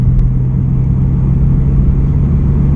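A Honda CR-Z 1.5 i-VTEC naturally aspirated hybrid with manual gearbox on 18-inch wheels accelerating on the road, a steady low engine rumble heard from inside the cabin, loud and continuous without talk.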